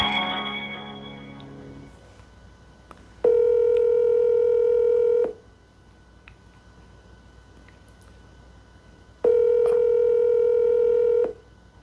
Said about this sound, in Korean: 전화가 끊어지는데 다시 전화를 걸어보겠습니다